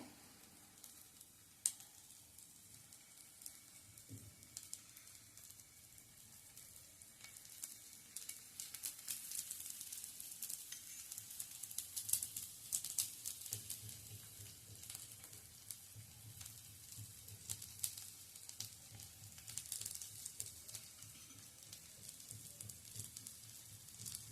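Vegetable cutlets fry in a little oil in a pan, giving a soft, steady sizzle and crackle that swells and fades slightly over time with no talking.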